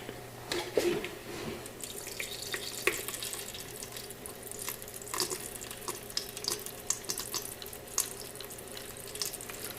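Sparge water for a one-gallon all-grain IPA home brew running steadily from a kitchen tap into a pot, a continuous splashing hiss with small crackles and drips, no voices.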